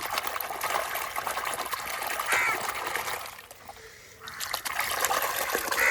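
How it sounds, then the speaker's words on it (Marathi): Cleaned fish being washed by hand in water gives continuous close splashing and trickling, briefly quieter midway before picking up again. "आई झळझळून धुवून काढता त्यांना"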